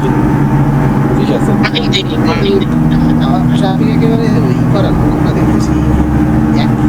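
Steady engine drone from a truck driven at seventy off the road edge in a Bangladesh map mod of a truck driving game, Dhaka to Chattogram route, holding a constant hum throughout while someone talks over it.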